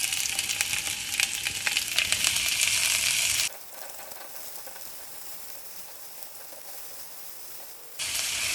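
Thinly sliced onions sizzle in avocado oil in a kadai: a loud, bright frying hiss that cuts off abruptly partway through, leaving a quiet lull, then bursts back in at full strength near the end.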